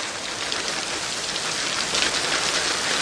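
Steady rain falls throughout, a dense, even hiss of drops at constant loudness with no voices or other sounds.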